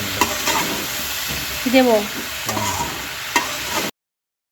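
A spicy curry with black pepper, green and dried chillies stirred and sautéed in a pan: loud close sizzling with repeated spatula scrapes, a brief question spoken partway through, then abrupt silence.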